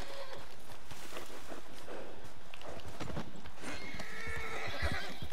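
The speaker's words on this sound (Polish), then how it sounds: "O, proszę, mamy tego konia." A horse in the video game Red Dead Redemption 2 clip-clops steadily with a whinny mixed in, its hoofbeats continuous over busy outdoor game ambience.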